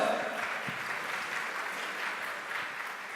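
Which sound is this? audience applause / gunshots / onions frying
audience applause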